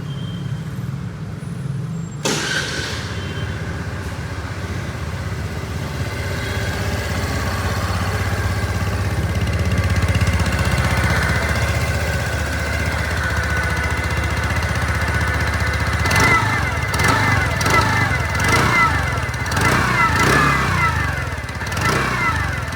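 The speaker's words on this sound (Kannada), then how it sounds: "ಹಾಗೆ ಒಂದು ಸ್ಕೂಟರ್ ನ ಎಕ್ಸಾಸ್ಟ್ ನೋಟ್ ನ ನೋಡ್ಕೊಂಡು ಬರೋಣ ಬನ್ನಿ." A TVS Zest 110 cc scooter engine starts after a couple of seconds and settles into a loud, steady exhaust drone close by, with sharper rev-like pulses near the end.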